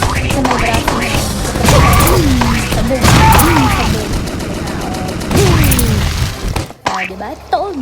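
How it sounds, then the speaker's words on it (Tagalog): Gunfire from the Roblox game Prison Run rings out in repeated sharp shots through the clip, loud and busy under constant talking voices. "Barilin na lang natin siya ng baril."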